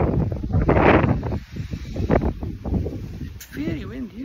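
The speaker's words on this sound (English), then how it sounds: "It's very windy, isn't it?" Wind gusts roar and buffet the microphone steadily, with people talking underneath.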